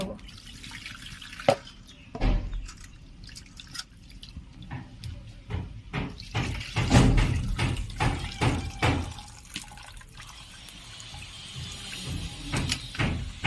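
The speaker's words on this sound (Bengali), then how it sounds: "এবারে জল দিয়ে ভালো করে ধুয়ে" Peeled shrimp are rinsed under running water at a sink, with irregular splashes, drips and clatter of varying loudness close by and no talking.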